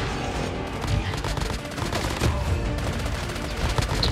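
Rapid gunfire in the mobile shooter Call of Duty Mobile with an M13 rifle, a loud, dense stream of shots in bursts over a busy, full-band game soundscape.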